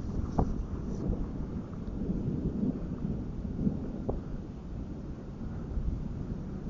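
Thunder from a lightning storm with hail comes as a low, continuous rumble with wind buffeting the microphone. A few faint cracks break through the dull roar, and no one speaks.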